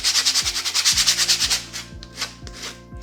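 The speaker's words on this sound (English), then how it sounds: "finish these bad boys up with a little sanding of the edges" Rhythmic back-and-forth scratching of sandpaper on the edges of raw wood, fast even strokes that slow and grow sparser, close up, under a low repeating musical beat.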